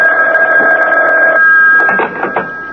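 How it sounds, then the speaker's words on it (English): A telephone rings in a radio drama, a steady electric bell tone sounding continuously, then the ringing breaks off and short clicks and handling noises follow. "Reuben, aren't you going to answer the phone?"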